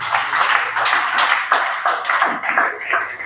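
A church congregation claps together in praise, a steady, loud patter of many hands that fills the room, with a few slightly louder accents.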